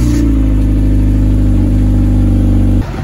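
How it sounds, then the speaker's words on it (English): 9th gen Honda Civic Si on stock exhaust during a cold startup, a loud, steady, close engine drone with a strong low rumble that holds evenly, then abruptly shifts near the end. "I'm gonna show you guys a cold startup with the stock exhaust"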